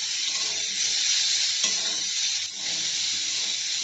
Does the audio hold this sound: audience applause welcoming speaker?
no